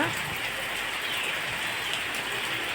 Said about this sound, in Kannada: ಈಗ ಮಳೆ ಬರ್ತಾನೇ ಉಂಟು ಕಂಟಿನ್ಯೂಸ್. ಹೀಗೆ ಚಿರಿಪಿರಿ ಚಿರಿಪಿರಿ ಮಳೆ, ಜೋರಂತ ಅಲ್ಲ.